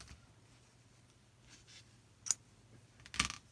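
Scissors snip through a strand of yarn on a knitting loom, giving two crisp, close clicks a second apart against a quiet background.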